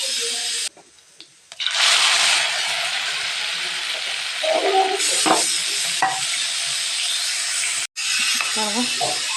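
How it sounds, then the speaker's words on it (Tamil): Fennel seeds hit hot cooking oil in a pan for a brain fry dish, with a loud, continuous sizzle that starts abruptly and then holds steady, broken by brief stirring scrapes and a quiet voice. "எண்ணெய் சூடாகட்டும் நல்ல எண்ணெய் அடிச்சுங்க இப்போ வந்து கொஞ்சம் சோம்பு போட்டு"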